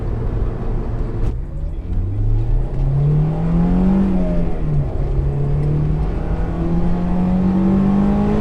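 Honda S2000 engine revving hard to high RPM under acceleration on a road, with a steady climbing engine note that dips once on a shift and then keeps rising, loud and close, with no talking.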